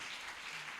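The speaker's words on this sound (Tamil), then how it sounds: "Let us clap." Church congregation at Sunday worship clapping, a dense, steady patter of many hands heard faintly at a distance.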